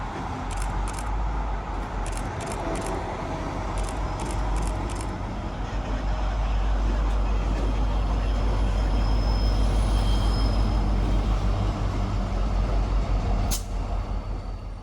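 Two MBTA stone train locomotives move along the track, a loud, close, steady diesel rumble with a hiss of air and faint metallic clanks, the roar building slightly before easing off.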